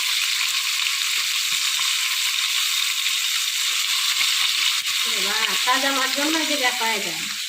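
Fish frying in a pan while being flipped to cook the other side, a loud, steady sizzle running throughout, with a voice talking over it in the last couple of seconds.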